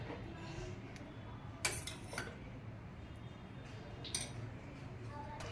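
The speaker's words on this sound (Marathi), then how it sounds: "हे सर्व साहित्य आपल्याला छान मिक्स करून घ्यायचे आहे" Thalipeeth flour for a cucumber thalipeeth is mixed in a bowl with turmeric, coriander powder, salt, ajwain and curd. Soft stirring runs under a faint background hiss, broken by a few sharp clinks of a utensil against the dish.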